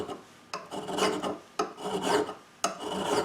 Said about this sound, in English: a few strokes with a file